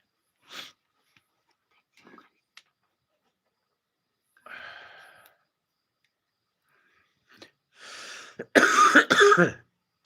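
Someone with a cold coughs in scattered bursts, a single cough and throat clearing early on, then a loud cluster of harsh coughs near the end, with quiet gaps between.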